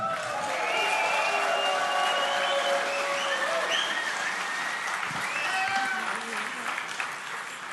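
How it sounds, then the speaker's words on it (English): A conference crowd bursts into sustained applause, loud and steady clapping that slowly thins toward the end, with cheers and voices mixed in. "I didn't even get there and you had the crowd applauding already."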